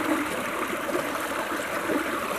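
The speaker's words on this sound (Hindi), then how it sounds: "ये पानी यहाँ से जाता है आगे तो, और यहाँ से आगे इस तरह से निकलता" Water running along a village channel fed from a nearby canal, a steady close rushing and trickling flow with faint gurgles, continuous and even, with no voices.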